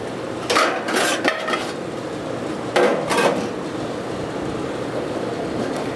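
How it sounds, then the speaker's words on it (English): Stainless steel side pieces lifted out of a Fire Magic electric grill, two clusters of bright metallic clanks and rattles a couple of seconds apart, close and fairly loud over a quiet background. "You just remove the stainless side pieces like this."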